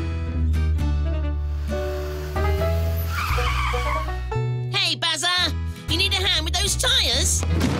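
Cartoon car tires skid and squeal in a long wavering screech that comes on loud after music and character voices, with the talking and score running underneath.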